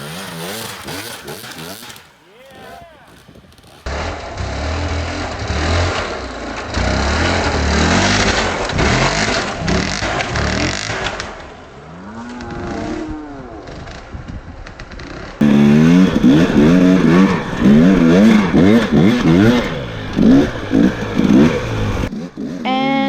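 Dirt bike engine revving and bogging as the rider picks through rocky terrain, loud and close with throttle surges, clutch pops and brief quieter gaps between runs.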